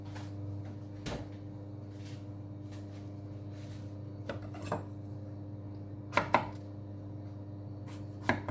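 A kitchen knife cuts the skin off a celeriac in a few separate, sharp chopping knocks, spaced irregularly over a steady low hum.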